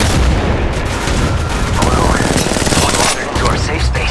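Loud, dense gunfire in the mobile game Apex Legends Mobile, shots rattling almost nonstop and close up, with a brief dip near the end and game voice callouts layered over the shooting.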